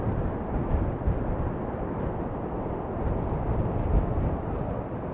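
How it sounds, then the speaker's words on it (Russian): A continuous, heavy roar of surf and wind, dense and unbroken, as large storm waves pound a rocky high shore nearby at Anapa. "такие волны нереально большие."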